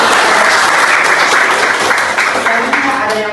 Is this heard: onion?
no